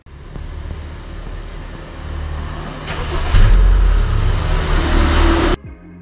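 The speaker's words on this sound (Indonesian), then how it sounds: "barusan saya nyalain mobil Honda City Hatchback ini tanpa masuk ke dalam mobilnya" A Honda City Hatchback started remotely with no one inside, its engine catching with a steady mid-range hum that rises louder partway through, then cuts off abruptly near the end.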